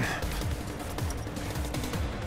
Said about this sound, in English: Now that was a gunshot.